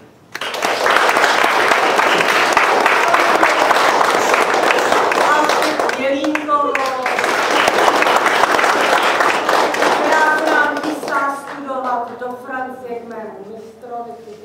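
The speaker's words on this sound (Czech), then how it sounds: "můžete zatleskat" An audience at a stage show claps loudly and steadily for a performer invited on stage, the ovation thinning toward the end as a voice speaks over the fading claps.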